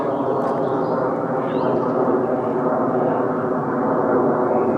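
Aircraft passing over woodland near RAF bases, a steady broad roar that holds at even loudness throughout, with faint birdsong above it and no talking.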